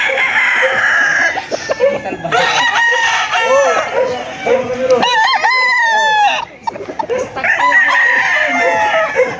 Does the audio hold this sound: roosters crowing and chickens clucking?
yes